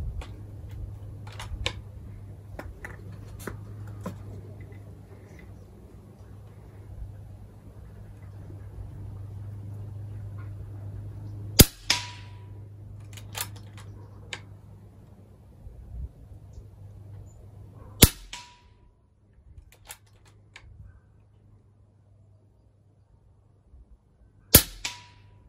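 FX Wildcat MK3 air rifle with power plenum fires pellets over a chronograph: three sharp, separate cracks spaced several seconds apart, with faint clicks and a low hum in between.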